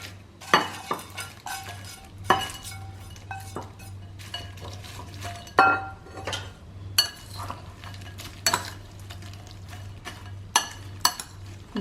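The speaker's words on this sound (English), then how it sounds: "so this we will mix it here in onion and green chilies" Bitter gourd salad of crisp fried gourd, onion and green chilies being stirred and mixed in a bowl, with repeated clinks and scrapes of a spoon at irregular intervals over a steady low hum.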